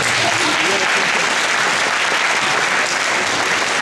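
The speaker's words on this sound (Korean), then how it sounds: "수고해준 선배님께 다시 한번 박수를 드립니다." Students at an Air Force Academy information session give a senior a dense, continuous round of applause that stays loud and even throughout, with a voice faintly under it.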